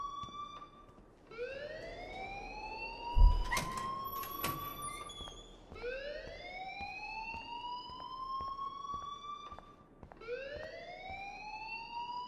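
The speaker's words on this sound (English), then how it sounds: "please turn off that alarm since that's your job" A school alarm in the video game Life is Strange wails in repeated rising electronic sweeps, each lasting a few seconds, steady and fairly loud, with a brief thump and a short metallic clatter partway through.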